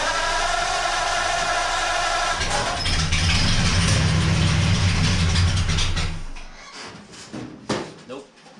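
An old Ford engine with carburetors cranks over steadily for several seconds in a loud, rhythmic churn, then stops, leaving quieter clanks and rustles afterward.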